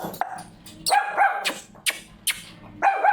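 A Pomeranian dog shut in a cage in a pet shop in Phuket gives several sharp, high yapping barks at irregular intervals, close and fairly loud.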